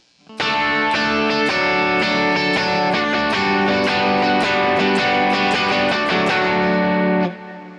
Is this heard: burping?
no